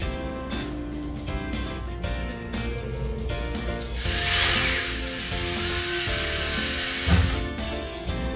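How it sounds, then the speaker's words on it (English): A power drill whirs steadily as it twists electrical wires into a twisted pair for motor wiring. It has a rough rubbing, ratcheting texture as it turns, then a few clicks and knocks near the end. "Got it on my drill bit, or on my drill, and just kind of tie it around there."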